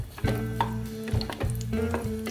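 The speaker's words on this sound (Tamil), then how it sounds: "ஒரு அஞ்சு நிமிஷம் தொடர்ந்து நம்ம இதை வந்து எண்ணெயிலேயே நல்லா வதக்கிடலாம்" Cut eggplants sautéing in oil in a pan make a continuous sizzle with a low steady hum running underneath and a few soft stirring knocks.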